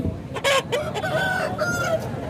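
A fighting rooster crows at moderate distance at a weekly village market, its call stretched out over a couple of seconds amid busy background noise and faint chatter.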